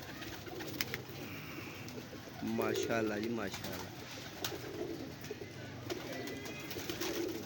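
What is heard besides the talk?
pigeons cooing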